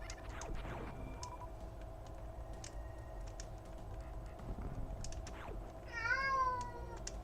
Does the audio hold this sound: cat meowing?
yes